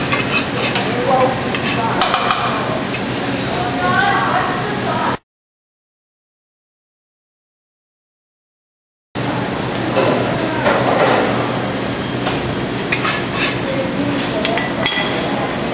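Food frying in a pan, a loud continuous sizzle with scraping and clinking of a utensil as it is turned, broken by a stretch of total silence before the sizzling resumes.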